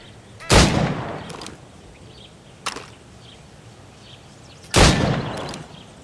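Gunshots at targets in Assassin's Creed Rogue: two sharp, loud reports about four seconds apart with a fainter crack between them, each trailing a brief echo over a quiet background.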